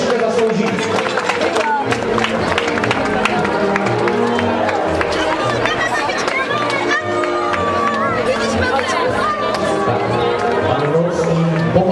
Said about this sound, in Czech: já bych poprosil potlesk významné výročí 150 let